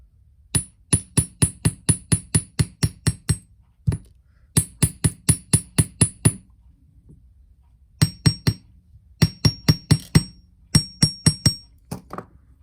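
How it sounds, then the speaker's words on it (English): A hammer taps metal wire to flatten a bangle bracelet: quick, even strokes in bursts of roughly eight to ten, each a bright, ringing metallic clink, with short pauses between runs. "I'm just going to hammer the other side too"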